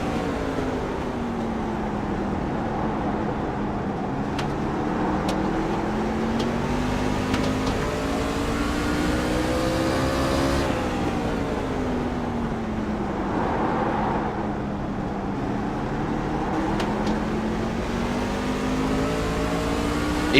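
Race truck engines drone steadily on track, the in-car roar rising and falling in pitch through gear changes and corners as a loose truck is wrestled around, loud and continuous with no voices.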